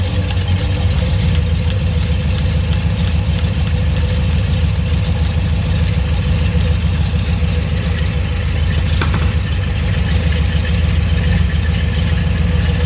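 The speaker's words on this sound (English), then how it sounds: "I think it's idling cleaner there." A car engine fitted with EFI idles steadily in a shop, a continuous low, even rumble with a faint mechanical tick and no change in speed throughout, with no voices over it.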